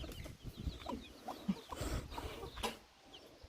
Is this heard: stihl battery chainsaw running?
no